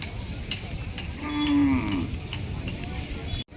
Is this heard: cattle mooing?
yes